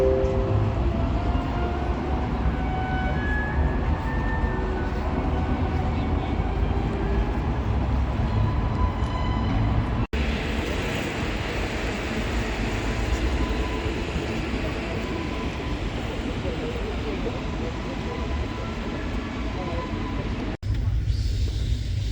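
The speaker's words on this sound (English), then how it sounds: "But it's a train station." A train rumbles steadily through a railway station in a continuous, loud wash of wheel and carriage noise with faint clicking. A sharp clunk breaks it partway through, and a voice can be heard faintly underneath.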